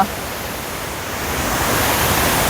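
Mae Klang waterfall at Doi Inthanon, Chiang Mai, gives a steady, broadband rush of falling water that grows slightly louder toward the end.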